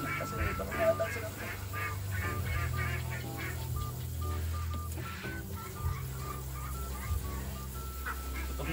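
Ducks quacking and honking in a close, busy flock waiting to be fed, with steady calls throughout and a few voices under the noise.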